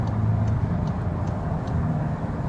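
A Volkswagen Golf GTI Mark 8 compact hatch drives along, its steady low engine and road rumble holding a constant level with faint tyre noise above, no voices.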